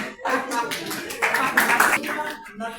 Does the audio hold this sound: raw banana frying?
no